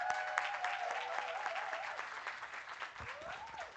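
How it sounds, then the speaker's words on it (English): Audience applause at a downtown holiday market press preview, a steady wash of many hands clapping at moderate distance for several seconds with no talk over it. "Please give a warm round of applause for Rachel Rose Hartman."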